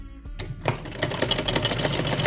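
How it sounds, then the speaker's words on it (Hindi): A sewing machine runs a straight stitch along a dupatta, starting with a couple of clicks and then settling into a steady, rapid, close mechanical whirr. "और पहले इसको स्ट्रेट सिलाई लगाएंगे। स्ट्रेट सिलाई लगाते जाएंगे इसको इस तरह से।"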